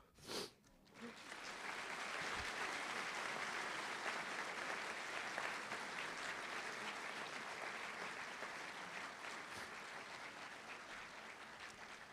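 Large audience applauding at a medical school white coat ceremony: after a brief pause, a full, sustained roar of many hands clapping swells and holds steadily for several seconds, easing slightly near the end.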